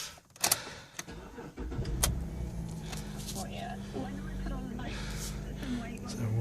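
A 2008 Holden Commodore Omega is started from cold: a few clicks and a short crank, then the engine catches and settles into a low steady idle, with some talk over it.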